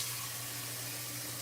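A steady, soft rush of water runs into a cooking pot holding fresh oregano, a continuous hiss close by with no voices over it.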